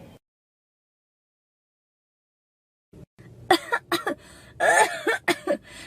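An old woman coughs, a run of rough, close coughs in uneven bursts after a silent pause, loud and alone.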